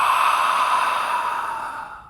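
A voice imitates a sigh, a single long breathy exhale of held breath that fades away over about two seconds, close and alone.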